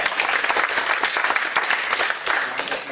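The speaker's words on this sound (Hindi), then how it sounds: "तो एक बार प्रोडक्ट्स के लिए जोरदार तालियां प्लीज क्लैप।" Hearty applause from an audience at a pharmaceutical product promotion event, dense steady clapping from many hands, close and loud for about three seconds with no talking.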